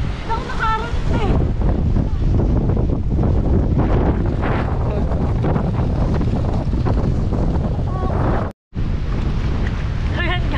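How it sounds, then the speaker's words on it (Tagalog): Loud, gusting wind sweeps over open farmland, roaring steadily against the microphone with heavy buffeting for the whole stretch and one abrupt brief dropout near the end. "Grabe naman kalakas ang hangin."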